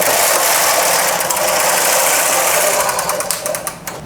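A knitting machine casts on with waste yarn across 65 needles at tension 3, giving a steady, loud mechanical whirring and rattle that runs continuously with faint ticking toward the end.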